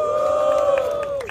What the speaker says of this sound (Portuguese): Palmas para o Hugo!